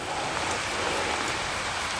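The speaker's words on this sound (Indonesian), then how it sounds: "cuacanya makin hujan ya" Steady rain falling outdoors at night, a dense continuous hiss of drops on surfaces, even and fairly loud with no voices.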